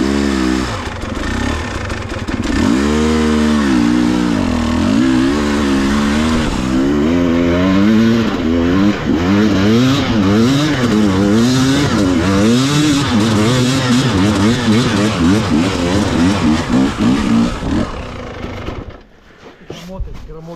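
A motorcycle engine revs up and down repeatedly, loud and close, its pitch rising and falling in waves before cutting off near the end.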